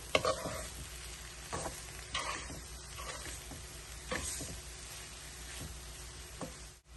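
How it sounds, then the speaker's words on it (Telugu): A spoon works through flattened rice upma in a pan with soft scraping strokes and a faint sizzle. The stirring is close and quiet, with brief louder scrapes now and then and no voices. "ఇప్పుడు శుభ్రంగా కలుపుదాం."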